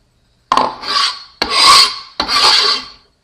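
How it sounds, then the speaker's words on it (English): Three loud, rasping scrapes of chopped salad being pushed off a cutting board into a bowl, each a rough sweeping stroke lasting about half a second, close up with no talking. "Scrape it all off the cutting board."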